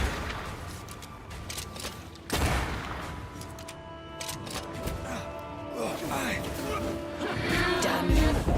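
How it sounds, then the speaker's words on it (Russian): Gunfire during combat in the video game Banishers: Ghosts of New Eden, a sharp shot landing among game music and effects, with a person speaking over the action. "Отличный выстрел в голову"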